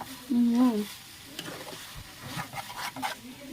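Roasted chicken cooks in a pan with a soft, steady sizzle and occasional stirring clinks; a brief voice sounds near the start.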